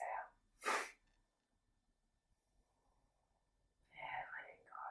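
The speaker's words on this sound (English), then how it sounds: "Sharp exhale" Sharp forceful exhales through the nose during a yoga breathing practice, one strong burst near the start with breathy whispered guidance around it, then quiet before further breathy sounds.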